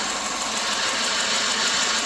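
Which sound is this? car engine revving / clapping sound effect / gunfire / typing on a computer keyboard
car engine revving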